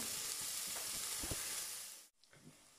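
Figatellu sausages browning in a pan give a steady, close crackling sizzle with a few stirring clunks, cutting off abruptly near the end before a faint quieter sizzle returns.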